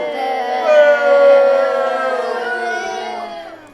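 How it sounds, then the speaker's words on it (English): A theatre audience boos a bad singer off stage, one sustained, loud, swelling wail of voices with a howling, siren-like tone that peaks early and slowly fades. "the entire crowd booed him off stage"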